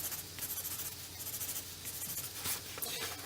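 Pen colouring on paper, a steady dry scratching and rubbing with brief stroke accents, close and continuous, with no voices.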